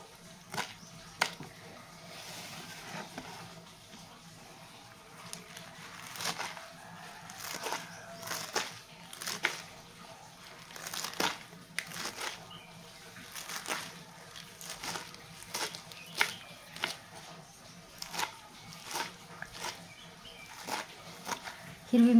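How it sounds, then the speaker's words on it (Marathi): A knife chopping fresh spinach leaves on a board in a home kitchen, with a steady run of crisp cuts at close range, under near-constant talk. "आणि अगोदर भाजी कट करून घेऊया."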